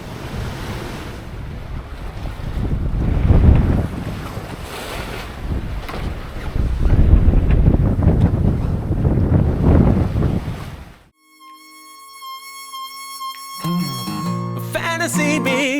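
Strong wind and rushing water around a sailboat at sea on a passage from New Zealand toward Minerva, loud and continuous for about eleven seconds before cutting away to music.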